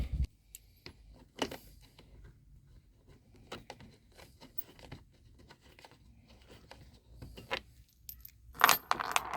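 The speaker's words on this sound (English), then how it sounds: "go ahead and pull these screws out" Close metallic clinks and rattles come from screws being pulled out of a semi truck floor, scattered irregular taps with a louder jangle near the end and no talking.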